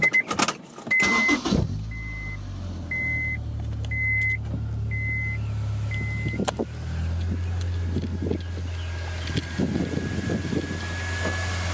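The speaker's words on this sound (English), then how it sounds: "we're gonna turn on the car, make sure nothing blows up except for the fuel in the engine" Honda S2000 with a newly self-installed Billman TCT being started: a chiming warning tone repeats several times, the starter cranks and the engine catches, then settles into a steady low idle with small clicks and ticks.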